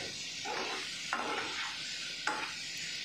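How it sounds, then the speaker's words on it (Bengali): Fried cauliflower and potatoes are stirred through spice paste in a pan over a low gas flame, a steady soft sizzle broken by a few scraping spatula strokes, close up with no talking. "ভাজা ফুলকপি আর আলুগুলো দিয়ে কিন্তু মশলার সাথে ফুলকপিগুলোকেও একটু ভালো করে কষিয়ে নিতে হবে।"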